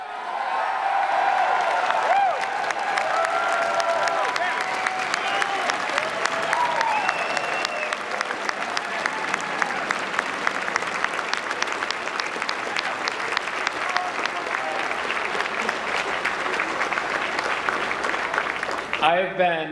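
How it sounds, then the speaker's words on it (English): A convention crowd of Libertarians gives a sustained round of applause lasting nearly twenty seconds, a dense, even wash of clapping heard from some distance, with a few whoops mixed in. "Can everyone give these candidates another round of applause?"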